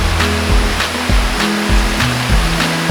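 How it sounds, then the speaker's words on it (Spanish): Water from springs and streams tumbles and rushes toward the Río Almonte in the Villuercas highlands, a steady, full roar with periodic low surges, close and continuous with no voices. "el fluir del agua proveniente de fuentes y arroyos irrumpe con su armonía"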